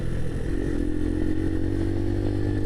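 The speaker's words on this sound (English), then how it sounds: "I think you're quicker because you're on the motorbike" A 125cc motorbike engine runs steadily and loudly up close, with a continuous mid-pitched drone and some rattle.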